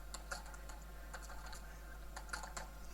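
Quiet, steady clicking of keys on a computer keyboard as code is entered, with small irregular bursts of taps over a low background hum.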